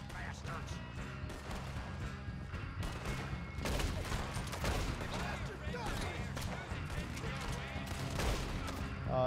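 Rapid gunfire erupts in Red Dead Redemption 2 as a firefight around a cabin unfolds, with loud overlapping shots and bursts, some heavy booms, and voices mixed in.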